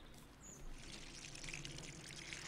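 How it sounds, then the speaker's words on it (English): A watering can pours in the farming video game Kynseed, giving a faint, steady trickling splash that starts partway in, with soft chirping birds in the game's background. "Wait. Watering can. Water."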